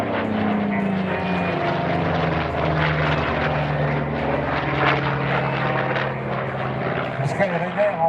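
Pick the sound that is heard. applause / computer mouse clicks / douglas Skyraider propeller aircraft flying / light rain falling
douglas Skyraider propeller aircraft flying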